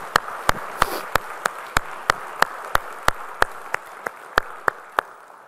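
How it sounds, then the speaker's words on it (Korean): A church congregation at Sunday worship claps together in a steady, even rhythm, about three crisp beats per second, each clap sharp and distinct above a soft background. "우리 찬양 박수, 주님께 영광의 박수 올리겠습니다."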